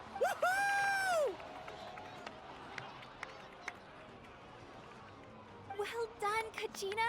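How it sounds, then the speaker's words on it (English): A crowd cheers and applauds for a brave young warrior, Kachina, at a tribal gathering led by a chief. A high whistling cry opens it, followed by a sustained wash of cheering with bursts of clapping near the end. "Let's give a huge round of applause to our brave young warrior, Kachina!"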